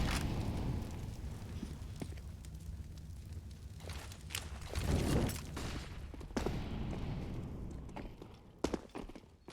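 In a Counter-Strike match on Inferno, grenades and an incendiary go off as muffled thumps and blasts with bursts of crackling, mixed with gunfire and footsteps at moderate loudness.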